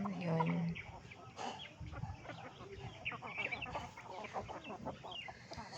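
A mother hen with her chicks clucks nearby in a backyard coop, soft repeated clucks and peeps mixed with a brief louder call, with some quiet talking in the background.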